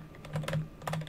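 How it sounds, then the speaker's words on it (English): Quick clatter of keys on a computer keyboard, a short burst of several close, crisp taps in an uneven rhythm, heard alone in a quiet room. "Maybe if I do it with keyboard and mouse,"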